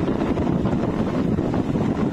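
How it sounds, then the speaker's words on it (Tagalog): Strong northeast monsoon wind on the back side of Boracay, at a mangrove park, buffets the microphone with a continuous rough rumble, gusty and loud throughout. "Oh, lakas ng hangin, no?"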